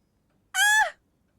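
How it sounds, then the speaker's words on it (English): A parrot in the video game Tavern Talk gives one short, bright, harsh squawk close by, with quiet before and after it. "Someone new with parrots!"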